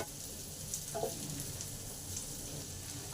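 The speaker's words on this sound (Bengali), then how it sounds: "এবার পেঁয়াজটাকে আলুর সাথে 2 মিনিট ভালোভাবে নেড়ে নেব।" Onions frying with potatoes in plenty of oil for Bhindi Aloo Masala, a soft continuous sizzle with faint stirring scrapes, quiet and close.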